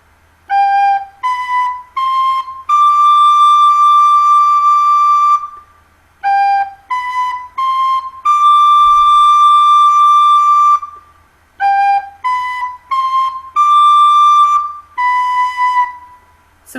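A recorder plays the simple melody of When the Saints Go Marching In, short and held notes in repeated phrases, clear and close, with brief gaps between phrases.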